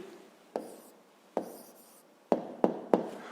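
A hand writes an answer for a fifth-grade math exercise. There are five quiet, separate pen or pencil strokes on paper, each a short scratchy tap that fades away, in a near-silent room.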